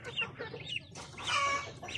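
Native chickens in a small cage meant for young birds, where a hen has laid eggs, clucking up close in short bursts with a louder squawking run near the end, no talk.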